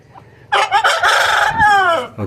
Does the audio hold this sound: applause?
no